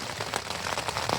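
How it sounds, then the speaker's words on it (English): Heavy rain pouring steadily on a trail, a dense, loud, continuous hiss of drops with no pauses. "As you can hear in the background, Yeah. It's raining hard."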